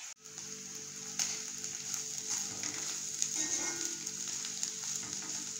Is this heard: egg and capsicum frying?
yes